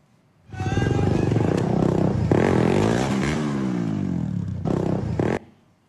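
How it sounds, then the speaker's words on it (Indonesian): A sport motorcycle runs a red light in traffic, its engine rising from nothing into a loud, rough rev at close range, passing by with a sweeping pitch change before cutting off abruptly. "pengendara motor sport ini menerobos lampu merah"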